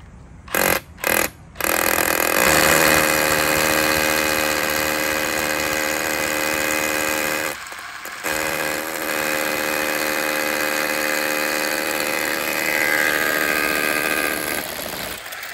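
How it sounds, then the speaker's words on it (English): A hammer drill bores into a surface with Tapcon anchors to fix a pergola post. It gives a few short starting bursts, then a long, loud, steady grinding buzz close by with one brief pause. "We're using our hammer drill, using these tap cons here."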